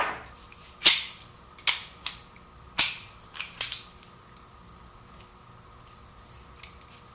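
The pin pops out of a Ruger P95 pistol under heavy spring pressure during disassembly. A handful of sharp, close metallic clicks and snaps come at irregular intervals, then quiet, with no talking.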